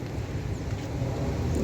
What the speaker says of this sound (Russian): Здесь очень ветрено.